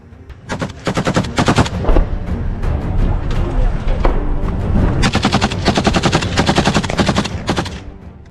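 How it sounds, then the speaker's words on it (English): Soldiers in camouflage firing on Russian targets in a wooded combat zone unleash loud, rapid bursts of gunfire, two long sustained volleys of overlapping shots separated by a brief lull, close and dense throughout. "The group of at least 6 men can be seen rapidly shooting at Russian targets and vehicles"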